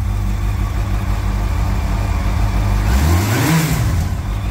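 A car engine idles after a missing spark plug was refitted, holding a steady low rumble, then revs up briefly and settles again, close and loud with no talk over it.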